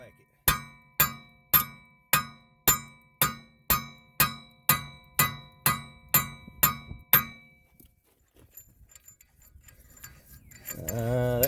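A hammer strikes a rusted spindle nut on a Pontiac G6 wheel hub about fourteen times in a steady rhythm, each hit a sharp metallic clank with a short ring. Quiet shop sounds follow the strikes.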